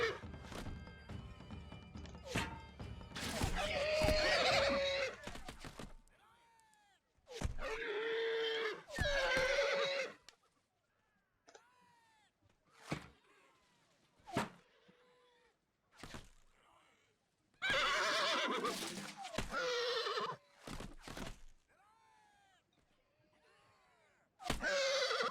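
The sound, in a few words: horses neighing in Shogun: Total War video game battle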